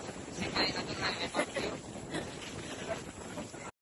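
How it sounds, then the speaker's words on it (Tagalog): Strong wind buffets the microphone in a continuous roar with gusty swells, and faint voices are partly buried beneath it. "ang lakas ng hangin dito"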